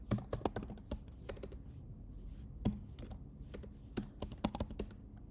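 Fingers type on a computer keyboard during C++ setup in VS Code on Windows, quick clusters of close, crisp key clicks with short pauses between bursts and nobody speaking.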